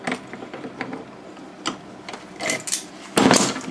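Welding on a steel bash plate for a Triumph motorcycle in a garage, giving irregular crackling bursts that swell and fade, loudest and densest near the end.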